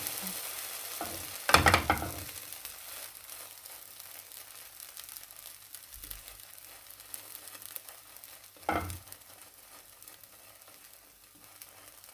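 Flatbread frying in a pan with a little coconut oil, a quiet continuous sizzle marked by two louder bursts of crackle as the bread is turned and the oil goes in, then settling back to a gentle hiss.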